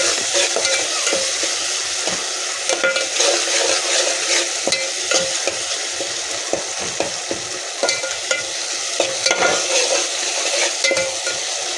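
Masoor dal being stirred in a pan on the stove, a continuous sizzle with repeated soft scraping strokes of the spoon against the pan.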